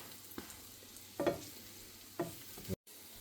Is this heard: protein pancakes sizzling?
yes